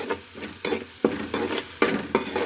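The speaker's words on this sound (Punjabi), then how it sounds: "ਹੁਣ ਅਸੀਂ ਚੰਗੀ ਤਰ੍ਹਾਂ ਹਿਲਾ ਲਾਂਗੇ" Spiced potatoes with turmeric and masala stirred in a pan for a sour potato dish, a spoon scraping in several distinct strokes over a light sizzle, close and clear with no talking.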